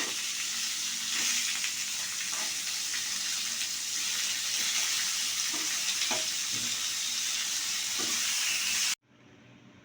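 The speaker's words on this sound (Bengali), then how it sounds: "আমি তিনটা শুকনো মরিচটা দিয়ে দিলাম মরিচগুলো আমি ভালোভাবে ভেজে নেব" Three dried red chillies fry in hot oil with a steady, dense sizzle and faint crackles, then the sound cuts off abruptly near the end.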